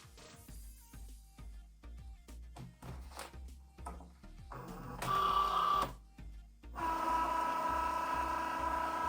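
A cutting machine works heat transfer vinyl for clothing labels, its carriage ticking and clicking in quick irregular bursts up close, then whirring in two longer motor runs as the head travels.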